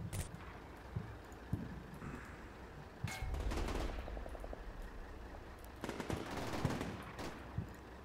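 Heavy machine gun fire from several guns in the video game Combat Mission Shock Force, set in an insurgent-held town: short rattling bursts and scattered single shots, loudest in two dense volleys.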